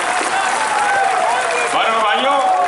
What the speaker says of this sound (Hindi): ताली के गड़गड़ाहट पहुंचाने का काम